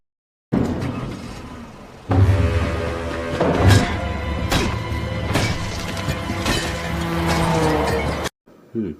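Glass smashes inside a public toilet during an action movie scene, with several loud crashes and shattering bursts over a dense, busy background of film sound and music.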